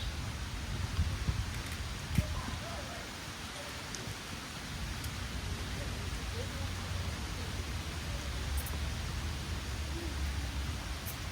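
Rain falls outdoors during an upper-body calisthenics workout, a steady, even hiss of drops filling the whole stretch at moderate level.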